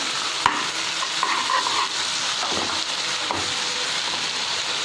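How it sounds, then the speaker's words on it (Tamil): Chopped tomatoes go into a frying onion masala for a quail gravy, and a steady sizzle runs throughout. A spoon stirs with intermittent scraping and a few sharp clacks against the pan. "நெக்ஸ்ட்டு நம்ம பொடியாக கட் பண்ணி வச்சுருக்கிறக்கூடிய தக்காளியை இதில் ஆட் பண்ணுவோம்."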